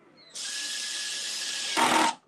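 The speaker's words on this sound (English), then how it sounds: "Yes, I'm using my drill. I've got the clutch, on its lowest or next to lowest setting here." A cordless drill with its clutch on a low setting drives a screw into a new cabinet, a steady close whine for over a second, then a louder burst as the clutch slips and ratchets.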